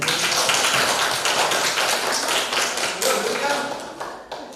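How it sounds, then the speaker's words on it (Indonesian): Students clap for a group that just demonstrated jogging drills in a school physical education lesson, a brisk scattered patter of hands that thins out toward the end. "Tepuk tangan buat kelompok 5."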